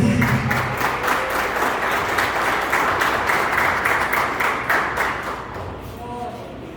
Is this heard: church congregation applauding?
yes